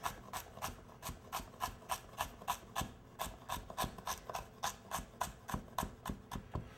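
Knife chopping a celery rib finely on a cutting board, a fast steady run of crisp, close taps roughly three per second, with no talking.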